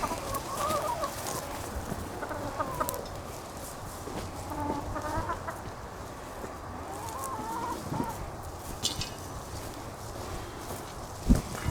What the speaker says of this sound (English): So see how the chickens immediately jump in there?